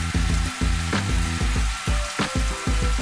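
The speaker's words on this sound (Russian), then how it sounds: "Сейчас мы добавим фарш к нашему луку." Minced meat frying with onions in a hot pan sizzles loudly throughout, with a rhythmic series of scraping, stirring knocks from a utensil against the pan, close and clear.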